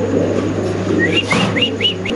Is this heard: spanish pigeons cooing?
yes